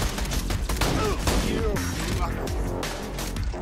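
Gunfire in the shooter game Borderlands 2, a chaotic burst of repeated shots and impacts layered over one another and kept loud and dense throughout, with a voice speaking faintly underneath.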